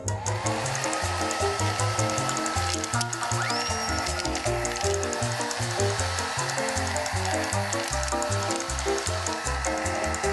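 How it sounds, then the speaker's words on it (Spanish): A cartoon hair dryer taken from a wardrobe and switched on, giving a steady, loud whirring hum with pulsing low tones and hiss that runs continuously throughout. "¡El secador de pelo!"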